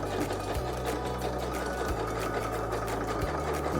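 Sewing machine stitching fabric for a van seat cover, a close, rapid mechanical whirr and needle chatter running in several bursts with short pauses between them.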